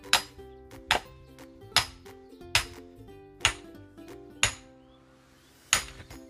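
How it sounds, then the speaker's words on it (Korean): Sharp metallic hammer strikes at a countryside home while splitting firewood, seven ringing taps spaced about a second apart, each leaving a brief resonant ring, close with no talk. "팍 두드리는 힘이니까"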